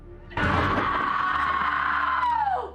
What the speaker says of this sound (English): Annie tries to assert dominance with a solid metal scream.